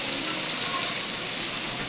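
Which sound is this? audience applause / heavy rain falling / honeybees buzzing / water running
heavy rain falling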